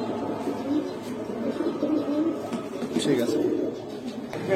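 Pigeons coo steadily at a pigeon seller's stall, a low rolling murmur of several birds close by, while people talk over them.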